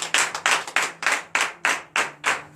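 Congregation at a Sunday church service in Benin clapping in unison, about eight sharp, rhythmic claps evenly paced in acclamation, close and loud.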